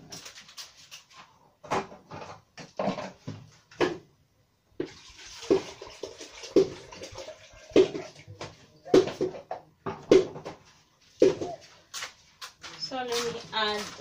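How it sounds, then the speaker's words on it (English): Water splashes and pours into a pot in short bursts while a person talks intermittently nearby. "So let me add a little water."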